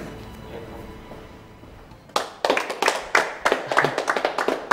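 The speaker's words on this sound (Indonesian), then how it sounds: "Udah, nggak usah tepuk tangan." Hand clapping begins abruptly after a quiet stretch of room tone, a rapid run of sharp, close claps from a few people, uneven in rhythm and continuing to the end.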